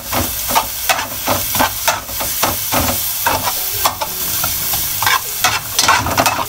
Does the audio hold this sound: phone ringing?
no